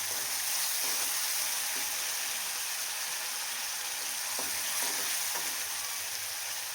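Sliced onions fry in plenty of oil with a pinch of salt, a steady, bright sizzle with occasional soft stirring scrapes, close and constant throughout.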